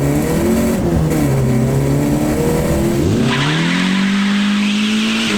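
A Peugeot 205 fitted with a swapped Peugeot 405 engine pulls away hard, loud and close. The revving engine climbs through a gear change, with tyre squeal under it.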